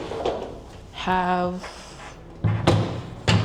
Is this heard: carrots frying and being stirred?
no